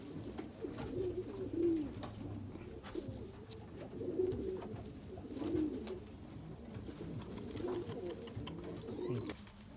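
Kasoori pigeons, a Lala-type Kasoori, cooing in a pigeon-keeping setting in Bakshi Nagar, Jammu and Kashmir: several soft, low rolling coos repeat every second or two at close range over faint background rustle.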